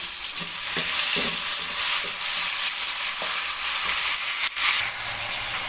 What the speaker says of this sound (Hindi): अब इसमें मैं एक अदद टमाटर मैंने काट के रखा था, वो शामिल कर रही हूँ।